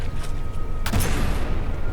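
A warship turret blows up in the naval combat game From The Depths, a sudden loud blast rising out of a dense, continuous rumble of battle noise and distant gunfire.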